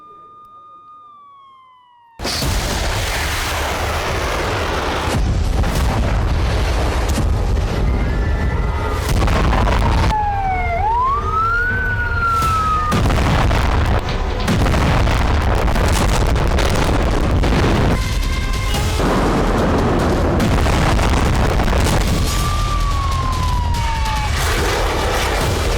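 Warning sirens wail and rise and fall over heavy, rumbling booms and blasts during Iranian missile strikes on Holon, Israel, with a loud continuous roar of explosions and wind buffeting after a quiet opening.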